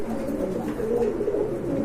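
Pigeons cooing at a pigeon market, a dense, continuous chorus of low, throaty coos from several birds close by.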